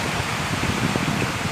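A dense, steady hiss of heavy rain pouring down without a break, loud and close, in Thailand.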